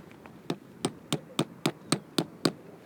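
A rock hammers tent pegs into rocky ground while camping near Muscat, Oman, making about nine sharp, evenly spaced knocks at a steady rhythm, close and clear over quiet outdoor background.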